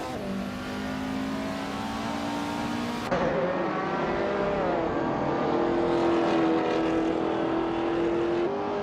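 Race car engines in a racing video game drone steadily and loudly, with a sustained engine tone that shifts pitch partway through as cars jostle for position; no talking.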